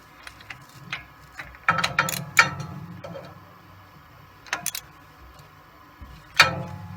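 Ratchet wrench snugging up bolts on a Ford 8.8 differential of a 2013 Mustang GT Track Package during a pinion seal replacement, heard as scattered bursts of close, sharp metallic clicking separated by quiet pauses.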